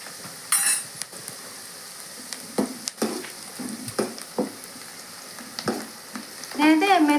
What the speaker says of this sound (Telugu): ఈ ఉల్లిగడ్డ ముక్కలండి ఎక్కువ ఫ్రై అవ్వాల్సిన అవసరం లేదు.